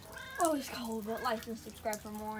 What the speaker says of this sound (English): The cat's right here.